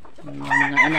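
Bantam chickens cluck and call close by as they are fed, a quick run of sharp, nasal squawks over a brief moment.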